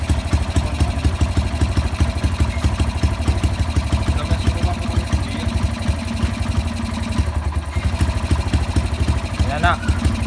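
A CT100 motorcycle engine with a misfire idles nearby with a steady, rapid low putter that stays even throughout, with faint voices in the background.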